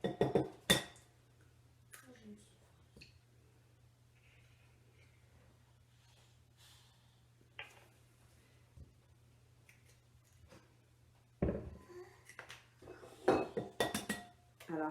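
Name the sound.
separating egg whites from yolks, dishes clinking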